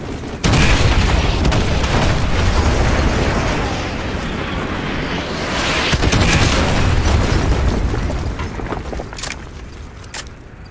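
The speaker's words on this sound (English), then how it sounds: "Fire mission received. Artillery inbound." Artillery barrage in the video game Modern Warfare 2, with heavy continuous rumbling explosions and booms rolling together, loud and sustained, swelling again midway with sharp cracks near the end.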